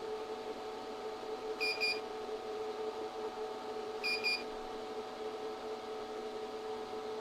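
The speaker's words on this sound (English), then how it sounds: "The chocolate has now reached its melt point, indicated by a series of loud beeps and the flashing of the temper button." A ChocoVision Rev2 chocolate tempering machine signals its melt point with two short clusters of high electronic beeps a few seconds apart, over a constant motor hum.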